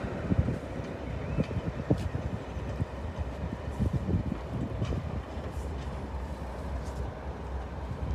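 Class 37 diesel locomotive 37607 rumbling past on the rails at Derby station, a loud, continuous roar with rhythmic wheel clatter and wind buffeting throughout.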